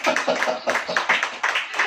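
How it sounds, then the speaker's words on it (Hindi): Church congregation clapping during a Hindi sermon, a short burst of quick, uneven hand claps, close and fairly loud. "ताली बजाओ।"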